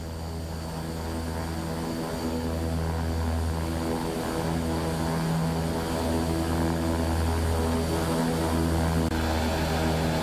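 A King Air 350 turboprop in X-Plane 12 taxis onto the runway with a loud, steady propeller drone and turbine whine, its tonal hum rising slightly while holding constant throughout.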